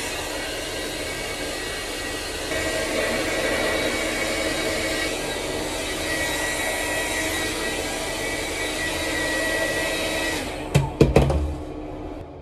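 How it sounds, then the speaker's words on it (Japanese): A handheld hair dryer blows a steady, loud airflow while hair is dried, holding an even roar for about ten seconds before a few abrupt bumps and the motor cutting off near the end. "こんな感じでドライヤーが乾かし終わりました"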